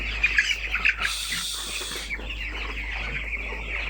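Broiler chickens on a poultry farm clucking, a few short close clucks early on followed by softer chirping calls over a constant low hum.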